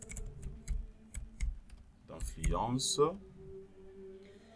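A computer keyboard clicks as a file name is typed, with a few sparse, separate keystrokes at first and then a quick run of taps, each one close and light. A voice talks between and over the typing.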